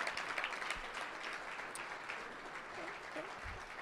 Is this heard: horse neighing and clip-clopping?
no